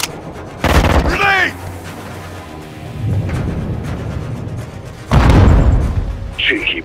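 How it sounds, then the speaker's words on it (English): Grenade blast and gunfire in a Call of Duty: Modern Warfare II campaign firefight, heavy booms and rumbling bursts of shots at close range, loud, with voices talking between them. "Grenade!"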